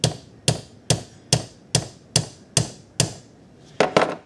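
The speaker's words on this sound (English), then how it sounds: "I'll just give it a few little taps with the end of a hammer here just to loosen it up a bit." Light hammer taps strike a metal punch set on a knife scale pin, nine sharp evenly spaced hits ringing close and clear, the last two coming quicker together.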